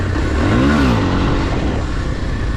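A Kawasaki KLX230 dirt bike revs hard in second gear as it climbs a bridge, a loud close engine note rising and then easing off over a couple of seconds.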